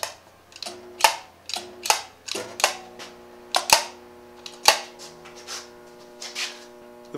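An upgraded Arthur Ganson spot welder fires in a series of sharp snapping zaps, about a dozen irregularly spaced bursts, close and crisp with quiet gaps and a faint hum between them.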